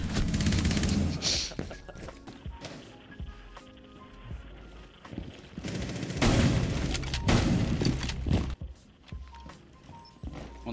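Bursts of P90 submachine gun fire in Rainbow Six Siege, rapid cracking volleys recurring across the clip amid other game sounds, loud and close with a faint voice at times.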